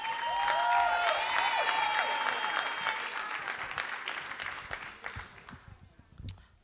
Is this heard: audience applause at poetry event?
yes